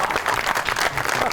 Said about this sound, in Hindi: चांद बराल के लिए और उनके बड़ों के लिए बहुत सी तालियां।